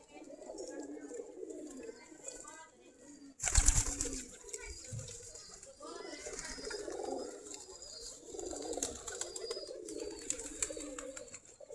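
Local Giribaj pigeons coo softly and steadily throughout, with a loud rustling burst partway through, likely wing flaps or movement nearby.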